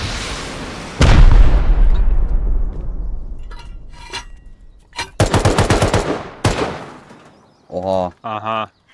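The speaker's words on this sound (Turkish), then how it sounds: "Bekle, roket atıyorum." Rocket launch and gunfire in the video game Rust: a heavy blast with a long rumbling decay, then bursts of rapid automatic fire, with voices talking near the end.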